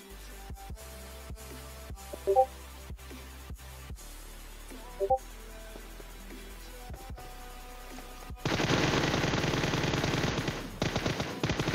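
Gunfire in the mobile battle royale game PUBG Mobile: scattered single sharp shots crack throughout, and near the end a dense, loud stretch of sustained automatic fire takes over.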